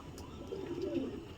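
Pigeons cooing, a single soft low throaty coo rising and falling briefly over faint background noise, no talking.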